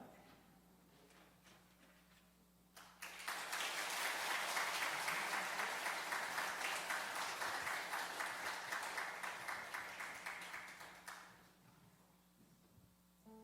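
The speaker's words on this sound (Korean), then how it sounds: "우리 뜨겁게 감사의 마음을 담아서 함께 박수하겠습니다" During a Sunday morning church service, the congregation breaks into warm, sustained applause of thanks as a gift is presented. The clapping starts abruptly, holds evenly for about eight seconds, then fades, sounding soft and somewhat distant.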